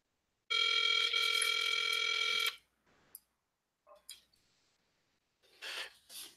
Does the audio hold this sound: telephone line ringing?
yes